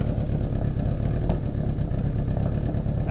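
A 1981 Yamaha XS1100 Midnight Special motorcycle idles on partial choke after a couple of minutes of running, its engine giving a steady, close, even rumble with a fast regular pulse.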